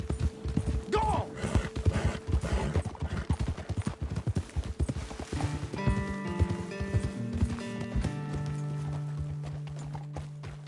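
Horses gallop in Red Dead Redemption 2, rapid hoofbeats close and prominent for several seconds, a horse whinnies briefly, then the hooves fade under a sustained musical score.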